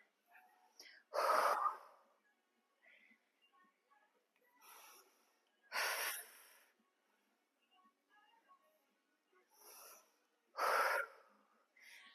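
Heavy breaths during a kettlebell workout come as four rhythmic, forceful exhales about every five seconds, faint and close, with quiet gaps between.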